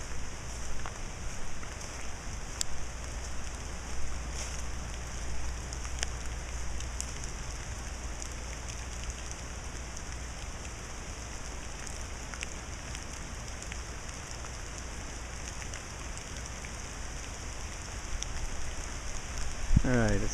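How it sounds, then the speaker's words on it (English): Rain from Hurricane Dorian near Lake Moultrie, South Carolina falls outdoors beside a house, a steady hiss of drops spattering on surfaces that continues evenly throughout with low wind rumble beneath. "pick up a little on the rain, so I'm going to head back in the house."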